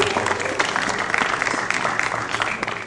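An audience applauding a teacher after a videoconference lesson, steady dense clapping with uneven peaks over a few seconds, mixed with some speech.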